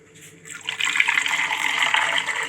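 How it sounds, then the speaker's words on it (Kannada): Hot water pours into a glass in a short, steady splashing stream that rises quickly and continues close by. "ಅದಕ್ಕೆ ಬಿಸಿನೀರು ಹಾಕ್ತಾಯಿದ್ದೀನಿ"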